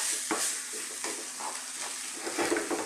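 A spoon stirs water into beef stew thickened with flour in a hot pot, giving irregular close scrapes over a soft, constant sizzle.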